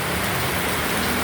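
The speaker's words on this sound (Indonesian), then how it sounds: "Hujan lur, gede lur," A downpour of heavy rain roars steadily and close, a thick continuous hiss with no talking and no break.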